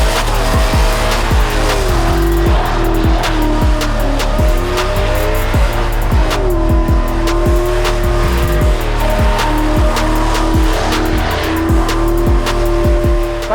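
Loud, continuous tyre-squealing burnout from a modified cheap V8 Jaguar at Santa Pod, engine held at high revs with rhythmic rises and dips and heavy low rumble.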